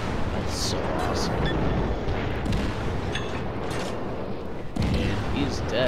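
Warship guns in World of Warships boom in heavy, rumbling blasts amid a dense roar of battle noise, with a player talking over the action.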